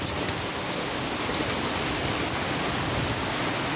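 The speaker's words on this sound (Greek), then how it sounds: "Το έστρωσε από χαλάζι." Dense, steady patter of hail in Ioannina striking a balcony and flower pots, a continuous broadband hiss with no voices, close and fairly loud throughout.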